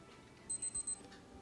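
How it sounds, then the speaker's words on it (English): A Casio G-Shock 2836 digital watch timer gives four quick, thin, high-pitched beeps in an even rhythm, close and clear over a quiet background. "One sound, beep or two beep at the last 30 seconds."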